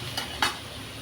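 Flattened rice poha is tipped into a pan of lightly fried vegetables and stirred, a faint soft sizzle with two brief scraping stir sounds, close and quiet.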